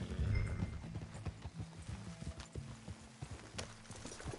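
Horse hooves clip-clop in Red Dead Redemption 2, a steady walking rhythm of fairly soft hoofbeats with a heavier rumble at the start and no talk over it.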